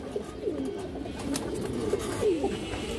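A female Monajak pigeon with black colouring coos in a few soft, rolling low calls, close by, over a murmuring backdrop of other pigeons.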